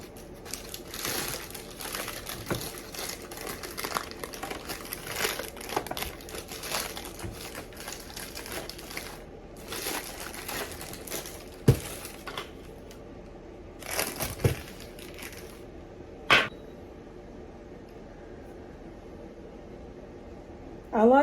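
Knife cutting set fantasy fudge into small bite-sized pieces: repeated crunchy chopping and scraping strokes in irregular bursts, with a few sharp clacks and quieter pauses between, close up.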